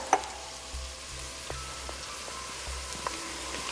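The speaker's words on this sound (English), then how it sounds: "Once the onions are nice and soft, then we go ahead and pop in the celery and also the bacon." Onions, celery and bacon frying in a pan for mussel chowder give a steady, soft sizzle, close and moderate in level, with an occasional faint tap of a utensil.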